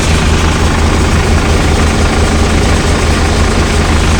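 Sonalika 740 tractor driving a Jangid thresher during a chickpea harvest in Dayal village, Mahuva, running at a steady high throttle: a loud, continuous low engine drone with a dense mechanical roar over it, unbroken throughout.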